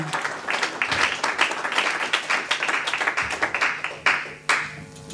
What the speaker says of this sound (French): Acclamons très très très fort.